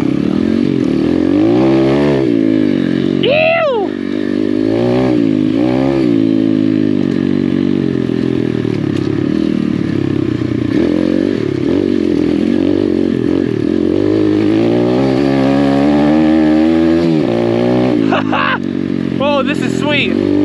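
A Chinese dirt bike ridden hard on an enduro trail, its engine droning and revving up and down close by, with a voice talking over the ride.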